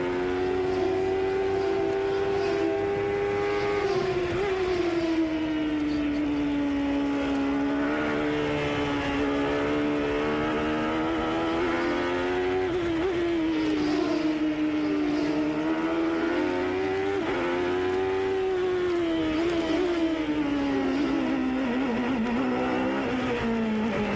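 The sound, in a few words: Chevrolet race car engine onboard, short shifting, Detroit Grand Prix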